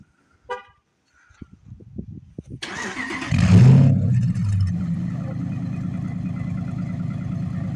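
A 2014 Ram 1500 Outdoorsman with a 5.7 Hemi and straight-pipe exhaust fires up from a warm start: a short crank, then a loud burst that settles into a deep, steady rumbling idle nearby.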